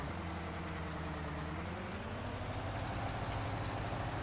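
John Deere 8370 tractor engine idling in Farming Simulator 2019, a steady low diesel rumble holding an even pitch throughout, continuous and moderately quiet with no voices.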